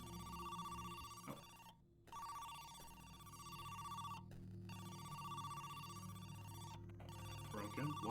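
A telephone in a video game rings in repeated bursts with brief pauses between them, clear and steady over a faint background hum.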